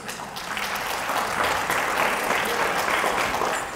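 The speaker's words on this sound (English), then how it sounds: "she deserves another round of applause." Applause after an Odissi dance performance, a full crowd clapping loudly and steadily throughout, swelling slightly and holding to the end.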